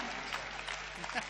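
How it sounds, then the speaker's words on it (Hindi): Audience applause at a Hindi comedy show, a steady wash of clapping from a crowd, short and continuous with a voice faintly over it. "इतनी तालियां दी कि मेरे मन से सारा डर जाता रहा।"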